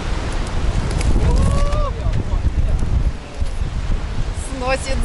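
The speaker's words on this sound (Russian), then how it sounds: "вот такой вот ветер." Strong storm wind in Alanya, Turkey, roars and buffets the microphone steadily throughout, strong enough to blow an umbrella away, with faint voices and a few distant bird calls underneath.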